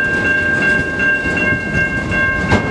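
A CN freight train rolls past the Mill Street railroad crossing in Ecorse, Michigan, close and loud, with rhythmic clickety-clack of wheels on rail joints under a steady high crossing-bell tone, with no talking.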